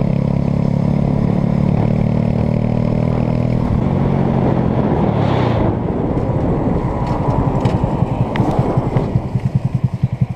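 Honda Grom motorcycle ridden on a chilly, wet, foggy road, its small engine droning steadily and loud, then shifting into a rougher, pulsing revving with wind and road clatter over the final seconds.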